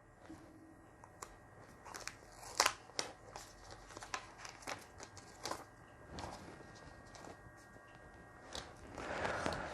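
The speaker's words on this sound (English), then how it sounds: "So let's just unwrap it." Plastic film being peeled off a new OPPO F17 Pro phone, with soft crinkles and a few sharp crackling snaps at irregular intervals, close and fairly quiet.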